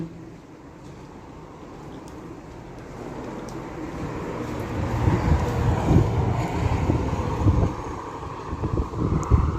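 Wind blows outdoors near houses, a steady broadband rush buffeting the microphone that swells louder in gusts toward the end, with no voices.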